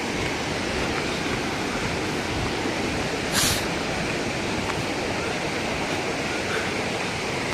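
Constant broadband rush of flowing water on a trek to Thoovanam Falls, steady and moderately loud, with a brief hiss partway through.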